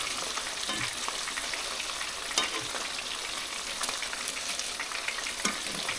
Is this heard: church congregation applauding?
no